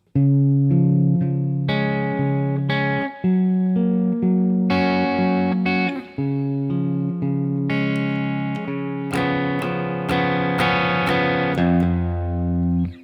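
A guitar plays the closing phrase of a song in a sequence of strong, ringing notes and chords, each struck clearly and left to sustain before the next.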